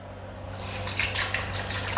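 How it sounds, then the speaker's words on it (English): Tap water pours into a pot of cut potatoes, a steady splashing and bubbling stream with crisp droplet sounds, close and moderately loud, with no talking over it. "And then I'm going to cover them with water."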